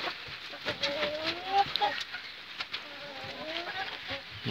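Chickens in a yard on a rainy day, with repeated short clucks and rising calls from the flock close by, over steady rain hiss throughout.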